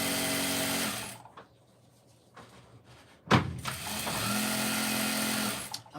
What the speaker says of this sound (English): Yep, I just keep sewing straight through.